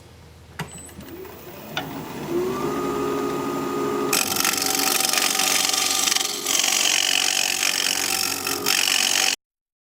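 A turning tool cuts a holly live edge bowl on a wood lathe, a steady scraping hiss over the motor's hum that grows louder and continues with brief dips, without talk.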